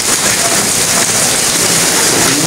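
Heavy rain mixed with hail pours down outdoors in Pakistan, a loud, dense and unbroken hiss of drops and pellets striking surfaces, steady throughout with no voices.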